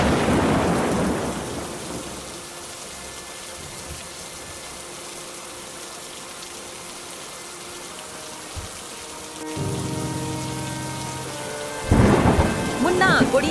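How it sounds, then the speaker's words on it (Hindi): A village thunderstorm in a Hindi animated story: heavy rain hisses steadily while deep thunder rumbles and cracks loudly at the start and again near the end. "एक जोर की बिजली चमकती है और बारिश शुरू हो जाती है।"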